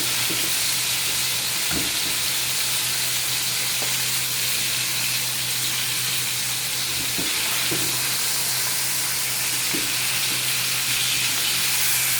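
Beef short ribs sizzle in a pan on the stove before finishing in the oven, a loud, steady frying hiss that runs throughout with a few soft clinks and no talking.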